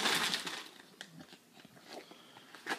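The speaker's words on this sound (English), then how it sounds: "Are you eating popcorn, Maddie?" Intermittent crunching and chewing noises close by as a dog eats popcorn, a few sharp crackly bites spaced out over a few seconds with quiet gaps between.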